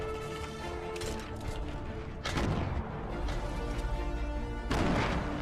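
Grenade explosions in a duo online shooter game, loud booming crashes that hit twice over a busy rumbling game background with no talk.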